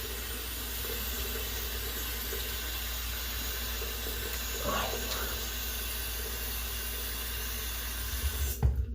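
A tap runs steadily into a sink while a face is wetted before a razor shave, a constant close hiss of flowing water with a brief splash of handling noise near the end.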